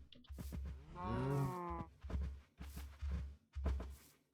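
Minecraft cows let out a series of moos, one longer drawn-out low call among several short grunting lows and clunky game sounds, close and clear with no speech.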